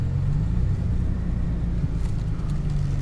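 A manual-transmission car cruising in second gear, its engine a low steady rumble heard from inside the cabin, even and unbroken with no talking.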